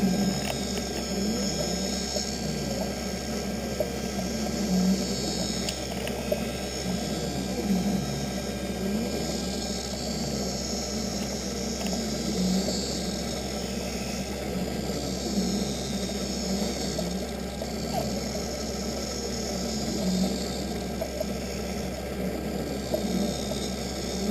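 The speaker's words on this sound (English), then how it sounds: "So now it's going around and putting the bevel onto the lens" A lens edger machine bevels a bifocal lens for a Ray-Ban 2132 New Wayfarer frame, giving a steady mechanical whir and hum with a faint rhythmic pulsing as it grinds around the edge, with no talk throughout.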